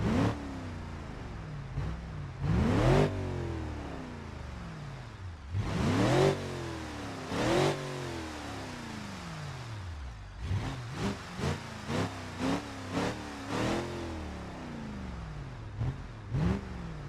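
Car engine in BeamNG.Drive revving repeatedly with a deep, bassy muffler tone, several long rising and falling sweeps followed by a run of short quick blips, loud and close, with no talking.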